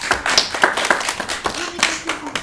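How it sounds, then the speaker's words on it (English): A small group claps for Brandon in a short burst of close, uneven hand claps with distinct individual slaps, a few voices mixed in briefly. "Let's give him a round of applause"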